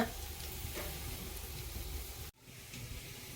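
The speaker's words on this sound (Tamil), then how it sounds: "தேங்காய் போட்ட பிறகு வந்து குழம்பு எப்படி கொதிக்கிட்டு பாருங்க." Steady soft sizzling and bubbling hiss of a coconut fish curry simmering in a pot, close and fairly quiet, with a brief dropout near the end.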